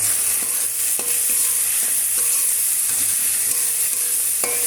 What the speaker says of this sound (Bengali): এবারে ভালোভাবে আবার কষিয়ে নেব।